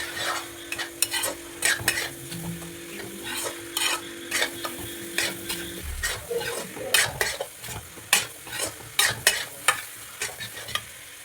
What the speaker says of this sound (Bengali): ভালো করে এখন মিশিয়ে নেব।